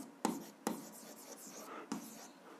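A pen writes out algebra on paper in quick, close scratchy strokes, with three sharper taps marking separate marks amid soft continuous scribbling.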